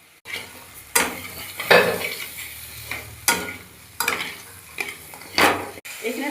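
Pieces of fish head fry with salt, sugar and a little chili powder in a pan, loud sizzling broken by repeated stirring scrapes and utensil clatter against the metal every second or so, with no voices.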